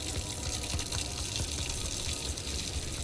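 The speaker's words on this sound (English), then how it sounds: "turn the water on." A garden water tap in Untitled Goose Game runs in a steady, unbroken rush of water, loud and continuous throughout with no pauses.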